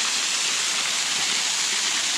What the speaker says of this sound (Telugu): ఈ వాటర్ ఫాల్